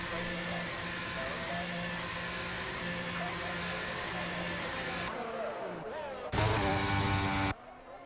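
Race car engine in a racing video game at the Miami circuit, a steady droning whine held for several seconds, then dropping out and returning in a louder burst.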